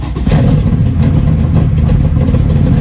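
A fuel-injected 1969 Chevrolet Camaro with headers and an aftermarket exhaust rumbles loudly and steadily close by, a deep throaty idle that holds even with a slight rev, no talking.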